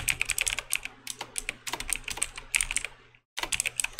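Rapid, irregular keystrokes on a computer keyboard during cybersecurity research, clicking close and clear in busy bursts, with one brief pause near the end before the typing resumes; no talking.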